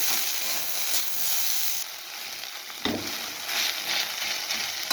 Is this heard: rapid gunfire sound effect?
no